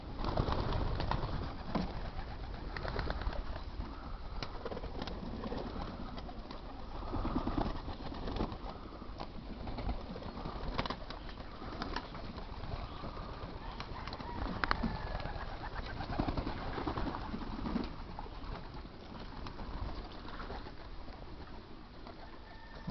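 Racing pigeons coo softly and repeatedly in a busy one-loft race loft, with rustling and scattered bird calls filling the background throughout.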